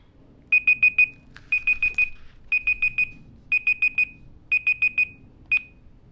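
A timer alarm beeps in rapid bursts of four, repeating about once a second in a steady pattern, loud and clear over a quiet room with no talking.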